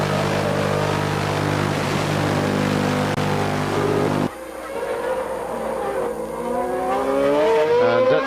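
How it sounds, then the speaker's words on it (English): Onboard a McLaren Formula One car at the 1991 Brazilian Grand Prix at Interlagos, a loud, high engine drone holds steady, then drops sharply and climbs again through rising gear sweeps as the car follows another racer. "here we see from the cockpit of Berger's McLaren, we get a good, tremendous view of the back of Nelson Piquet's car."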